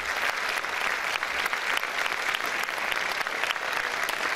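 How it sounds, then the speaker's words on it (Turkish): Applause from the audience at a Turkish folk music night, a sustained wash of many hands clapping at moderate distance, fairly even with small swells. "Ve tabii ki halk kanserine yer alan tüm çocuklarımızı özgürlükle alkışlıyoruz."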